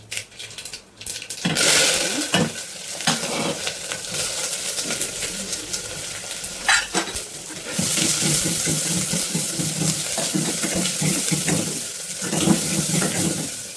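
Onion, garlic, curry leaves and dried red chilies sizzle in hot oil in a pan with mustard seeds and urad dal. The frying hiss is steady and close, with occasional stirring clatter and no talking.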